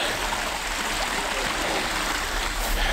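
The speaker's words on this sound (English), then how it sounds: "we are on the trail to Copperas Falls and got some beautiful water going on" Flowing stream water on the trail to Copperas Falls in Red River Gorge rushes steadily and close by, a constant broadband wash with no voices.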